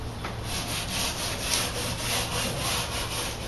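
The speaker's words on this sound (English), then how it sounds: "we're continuing the stripping process, and take a wire brush carefully" Steady wire brush scrubbing over a stripped wooden entrance door, scraping off stain and urethane coating in quick, even back-and-forth strokes, close and continuous with no talking.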